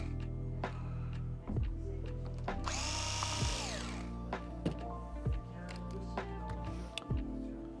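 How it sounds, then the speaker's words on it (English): A powered screwdriver backing out two small #1 Phillips screws on a detachable hair clipper's blade drive. A single close motor whir rises and falls mid-clip, with small clicks and handling taps around it in a quiet room. "So I'm going to use a powered screwdriver."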